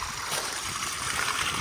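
A garden pond waterfall cascade runs beside a fish pond, giving a steady close hiss of splashing, trickling water with no pauses.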